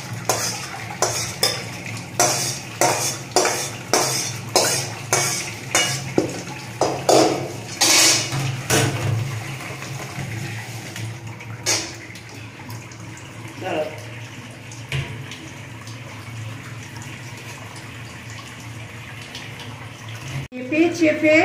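Cooked papaya pieces are drained through a strainer: a quick run of rhythmic scraping and clinking strokes, then a softer wash of trickling water and faint handling noises, fairly close.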